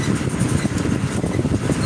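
Engine of a 1990s four-wheel-drive tractor pulling a seed drill for a cover crop, a steady, close, rumbling drone with no pauses throughout.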